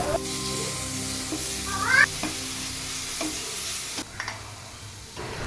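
Paneer, onion, tomato, garlic, beans, carrot, cumin and curry leaves sauté in ghee in a pan, a soft continuous sizzle broken by a few scraping stirs and clinks.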